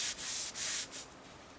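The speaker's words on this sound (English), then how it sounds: "I'm just on with grinding the bevels on the big spring steel chef knife." A spring steel chef knife has its bevels ground, giving three short abrasive rasping strokes in quick succession, close and fairly loud, with no voices.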